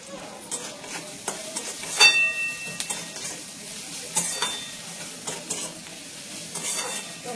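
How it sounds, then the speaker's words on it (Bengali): Onions and spices frying in a little oil in a pan for sambar make a steady, close sizzle. Scrapes and clinks of a stirring spoon against the pan come through in short bursts, with no talking. "সবকটা মশলা দিয়ে ভালো করে পেঁয়াজটা ভাজা ভাজা করে নেবো"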